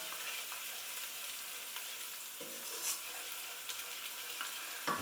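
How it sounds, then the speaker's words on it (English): Vegetarian puttanesca pasta sauce sizzling steadily in a pan as it is stirred, a bright continuous frying hiss with occasional soft utensil scrapes and taps, close and even. "I'm going to stir that in, and I'm also going to let that just slightly cook off."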